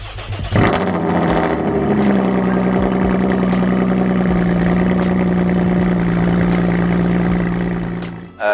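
A Porsche Cayman 981, left sitting for a while and fitted with a new battery, cranks and fires, then settles into a steady, rough idle that runs loud and close until the end.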